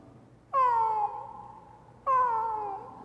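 A human voice imitates a cat meowing twice, each drawn-out, falling mew loud and close, separated by a short pause with no other sound.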